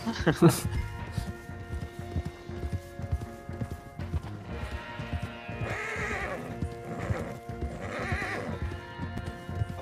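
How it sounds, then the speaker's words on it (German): Horse hooves clip-clop steadily while a horse whinnies in the video game Red Dead Online, with game-like effects and a person talking over the riding sounds. "genau das Pferd, auf dem du jetzt reitest, Kohlrabi."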